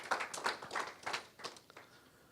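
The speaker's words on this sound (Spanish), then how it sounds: "¿Por qué no damos un fuerte aplauso a las ofrendas, al Señor, perdón?" A short burst of scattered clapping from a small church congregation fades out within a couple of seconds, fairly faint and thin.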